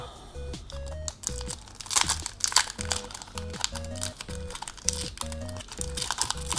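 A Magic: The Gathering booster pack's foil wrapper being torn open and handled, giving close, continuous crinkling and crunching in uneven bursts, with soft background music playing underneath and no talking.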